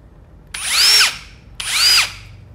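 Ryobi brushless cordless drill running in hammer mode, two separate bursts each about half a second long, spinning up and winding down with a loud, close whine. No one speaks.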